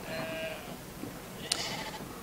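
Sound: sheep bleating in a video game

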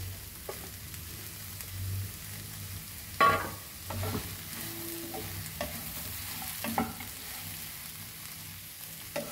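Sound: okra bhindi sauteing in pan

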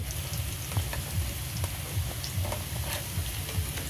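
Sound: pakoras frying in oil

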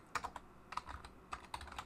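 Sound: typing a folder name on a computer keyboard

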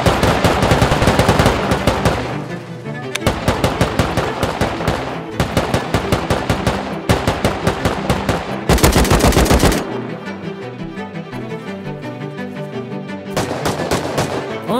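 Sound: turret machine gun fire in a video game

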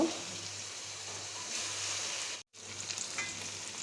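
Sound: prawns frying in a pan, being turned

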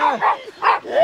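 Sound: dogs barking

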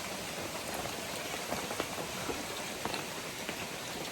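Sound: light rain drizzling

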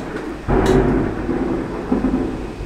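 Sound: thunder clap during storm

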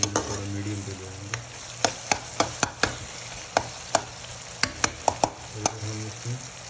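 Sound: pumpkin with salt and green chilli being roasted and stirred

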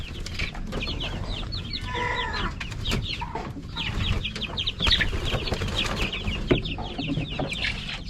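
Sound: chickens clucking in their coop

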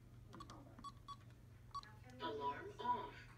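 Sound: keypad beeps entering PIN on Simplisafe alarm

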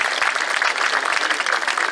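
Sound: concert audience applause for sponsors

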